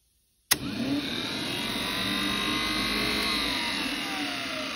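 A series wound electric golf cart motor, wired for a bench test, kicks on abruptly and spins a wheel with a steady, loud whine and hum that holds constant to the end.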